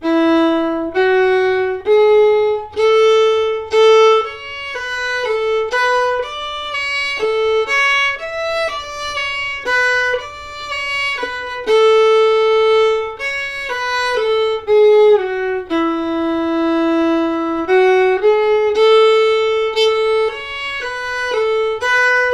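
A fiddle plays the A section of the old-time tune Goodbye Liza Jane, a steady run of clear bowed notes with a bouncing rhythm, close and loud with no talking.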